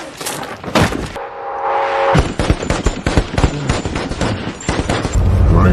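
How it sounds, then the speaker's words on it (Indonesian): Sniper rifle fire from over a kilometre away at a rooftop, heard as a dense run of sharp loud gunshot cracks and thuds in rapid succession with a brief tonal hum in the middle and no talk. "Chris memperkirakan Mustafa menembak dari jarak 1 kilo lebih"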